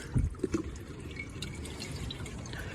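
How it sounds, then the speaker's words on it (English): Filtered walnut sap drips into a container, a few soft close drops at the start followed by a faint steady background. "I'll just take this while it's dripping and quickly set it into this container"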